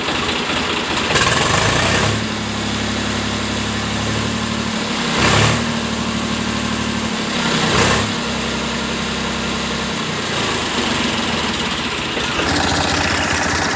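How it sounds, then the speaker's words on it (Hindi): A Swaraj 735 FE tractor engine with a half-engine problem runs close by with a steady diesel chug, revving up in several short surges of acceleration before settling back to idle. "हमारा गाड़ी स्टार्ट हो चुका है, आप लोगों को एक्सीलेटर देख के दिखाते हैं।"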